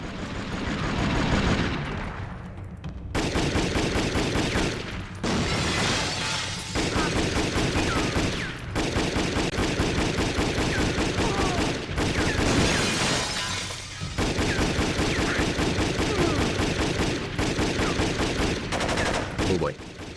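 Two guns firing in the video game Jet Li: Rise to Honor, a dense, sustained barrage of rapid shots and shattering impacts with only brief gaps, loud and continuous under faint talking.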